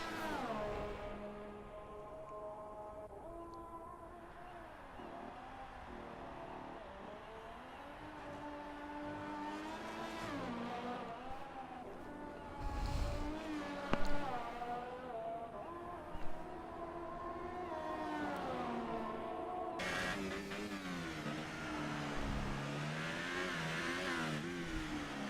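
A GP3 race car on an onboard qualifying lap at the Abu Dhabi Grand Prix screams continuously, its engine pitch climbing and dropping through repeated gear changes, loud and close throughout.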